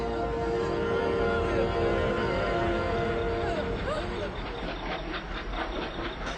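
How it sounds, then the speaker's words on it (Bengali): A train runs nearby with a continuous, loud rumble and hiss, steady throughout with a faint rhythmic clatter toward the end. "এই ট্রেনটা এখনো মরেনি, আবার চলতে শুরু করেছে।"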